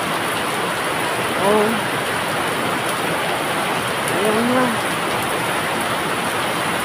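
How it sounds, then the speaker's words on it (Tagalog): Heavy, wind-driven rain pours down as a steady, dense hiss that fills the whole clip, while someone speaks briefly twice, close by, over the downpour. "Bumungos na ang malakas na ulan mga kapards."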